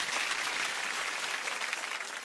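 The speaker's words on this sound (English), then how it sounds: "You just get lots of claps." A studio audience on a celebrity panel show breaks into sustained applause, a dense wash of clapping that holds steady throughout with no voices on top.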